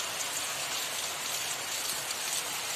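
Heavy monsoon downpour on the first of August pours in a constant, dense roar of rain on surfaces, uniform and unbroken from start to finish with no one speaking.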